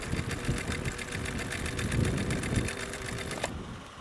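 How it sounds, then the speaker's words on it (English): A Husqvarna Viking Type 21 sewing machine, run off-grid on about 1.5 amps in cold conditions, stitches through a single layer of fabric with a steady rapid needle clatter and motor drone that stops abruptly near the end. "So here's a single layer with this Husqvarna Type 21."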